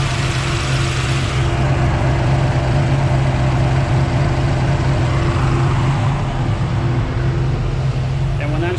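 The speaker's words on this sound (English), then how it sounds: "you can hear the car running behind me" A turbocharged Pontiac LeMans with heavy blow-by from the catch can sits idling nearby, its engine giving a steady, loud, even rumble that carries through the whole stretch without a break.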